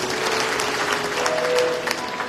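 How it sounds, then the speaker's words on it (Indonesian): A church congregation at a Sunday worship service claps together in a steady burst of applause filling the hall, with faint voices beneath. "Kita tepuk tangan bagi Tuhan."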